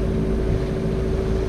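A sailboat under genoa with a small motor assist after leaving Cavalaire, giving a steady low engine drone with strong wind and water rush, loud and close, with no voices.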